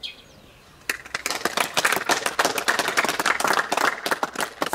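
A seminar audience breaks into dense, lively applause after a quiet first second, with clapping from many hands that stays close and steady to the end.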